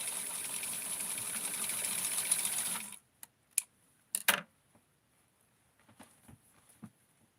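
A sewing machine stitching in a steady close whirring run that stops abruptly, followed by scattered clicks and brief handling noises.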